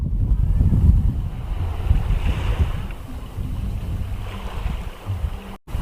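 Ocean waves wash over an eroding beach at Pantai Plentong in Indramayu, where bamboo debris pokes out of the shallow ripples. The low surf rumbles steadily and loud, mixed with gusty wind buffeting the microphone, and no one speaks.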